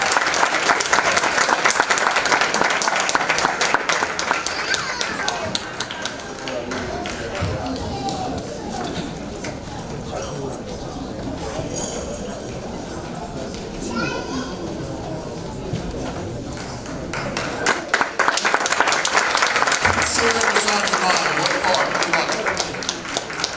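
Sustained applause fills a high school graduation ceremony, a dense crowd clapping loudly at first, thinning in the middle, then swelling again, with scattered voices mixed in.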